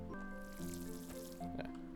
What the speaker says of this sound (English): Use the watering can to water your seeds.